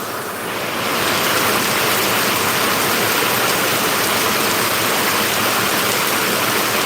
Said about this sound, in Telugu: ఫుల్ రైన్ ఇంకొల్లు కూడా ఫుల్ రైన్ అంట